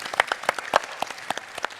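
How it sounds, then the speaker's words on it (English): A small audience at a film screening and panel discussion gives brief, scattered applause. Individual claps are distinct and irregular rather than a dense roar, and the clapping thins quickly. "and a nice round of applause"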